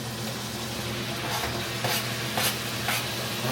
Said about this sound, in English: finally can hear some sizzling going on